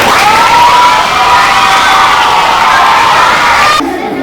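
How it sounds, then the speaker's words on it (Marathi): Fifth-grade schoolchildren at a classroom debate burst into loud, sustained cheering and shouting as a crowd, close and energetic, fading slightly at the end. "ते टाळ्या वाजवा, चांगलं उत्तर सांगितलं."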